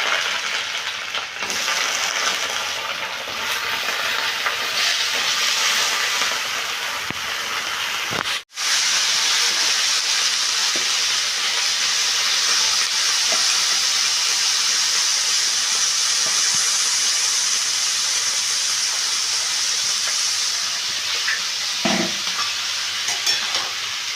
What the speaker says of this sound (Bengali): এবার আমি সবজিগুলোকে দিয়ে দিচ্ছি